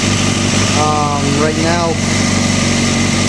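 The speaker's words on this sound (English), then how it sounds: "You can hear the engine a lot quieter." Motorcycle engine with a manually adjusted cam chain tensioner idling close by, a steady, even hum without rattle, while someone talks briefly over it.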